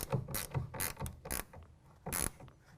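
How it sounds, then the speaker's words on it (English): A 1/2-inch ratcheting wrench tightens a clamp on a truck bed rail for a tonneau cover on a 2017 Dodge Ram 1500, heard as several short bursts of ratcheting clicks, close and fairly quiet, with no talking. "we can go ahead and tighten that down with a 1/2-inch ratcheting wrench"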